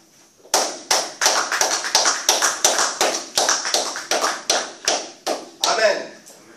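Church congregation clapping in unison to acclaim Jesus, a steady rhythmic series of sharp, loud claps about twice per second, with voices under it.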